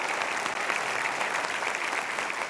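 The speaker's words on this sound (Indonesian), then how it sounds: "tepuk tangan untuk kita semua yang hadir di sini" A studio audience at a motivational talk show breaks into sustained, dense applause, many hands clapping loudly and evenly throughout with no break.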